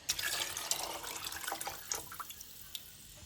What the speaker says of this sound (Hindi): ढेर सारा पानी डालेंगे ताकि गोश्त बिल्कुल टेंडर हो जाए।